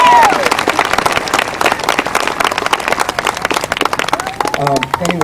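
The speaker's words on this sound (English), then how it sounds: "One more time, a big round of applause for Miss Penny Treggett, Miss Laura Capital." Loud, continuous applause from an audience at an outdoor stage dedication event, honoring performers, with scattered cheers and voices mixed into the dense clapping throughout.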